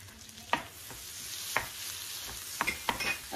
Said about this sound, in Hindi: प्याज को हम 2-3 मिनट भूनेंगे